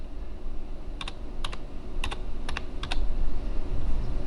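Clicky keystrokes on a computer keyboard while entering a search on a PC to open Device Manager, arriving in short bursts and pairs of taps over a steady low hum, close and fairly loud.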